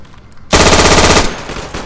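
Machine gun fire in the video game Day of Infamy, a loud, steady automatic burst lasting under a second after a quiet start, then fading into background battle noise.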